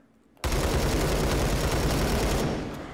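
A SCAR rifle in a VR game fires on full auto, opening with an abrupt burst that becomes a dense, continuous rattle of rapid shots lasting about two seconds before tapering off, with no talking.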